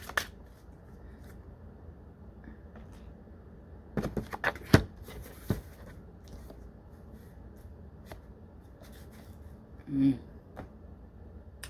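Tarot cards shuffled by hand at close range: quiet, irregular riffling and sharp slapping bursts of card against card, with brief pauses between shuffles and no talk.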